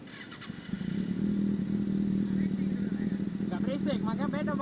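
A Kawasaki ZX636 four-cylinder motorcycle on a night ride, its engine giving a steady, close, smooth drone with faint clatter, while people talk over it.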